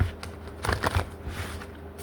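A large tarot deck is shuffled in one soft, close riffling burst lasting under a second, with faint handling rustle before and after.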